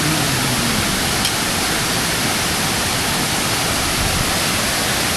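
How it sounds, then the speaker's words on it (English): Tad Keo Muong Kout waterfall in Laos roars nearby as a loud, steady, broadband rush of falling water, continuous and alone without talk. "right by the waterfall"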